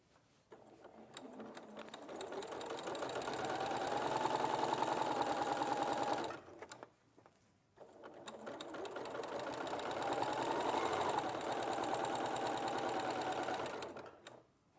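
Two long runs of a sewing machine stitching a side seam, each roughly six seconds of steady, rapid mechanical whirring. A short pause with a faint click separates them, and there is no talking.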